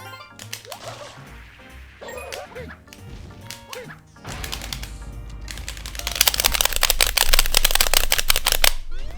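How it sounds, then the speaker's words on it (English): Clicky triggers on GameCube controllers, pressed in a rapid clatter of sharp plastic clicks during a Super Mario Sunshine speedrun, at first sparse and then dense and loud in the last few seconds. "I have 4 GameCube controllers, and they all have clicky triggers"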